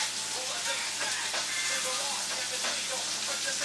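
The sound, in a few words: salmon searing in a pan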